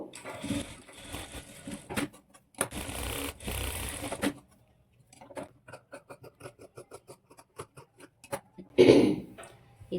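A sewing machine stitches a blouse in short bursts, with fast rhythmic mechanical chattering close up, a run of distinct ticking stitches, then a brief louder thump near the end.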